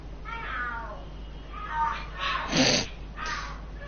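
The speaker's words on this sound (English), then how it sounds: "Are there cats fighting? What are they screaming for?" Cats fighting and screaming in the Lost Judgment video game, a series of loud yowling caterwauls and shrieks that rise and fall in bursts, peaking sharply near the end, with game ambience underneath.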